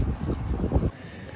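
Wind gusting across a boat moored at a quay in a Greek harbour, a close, rough rumble buffeting the microphone that drops away suddenly near the end.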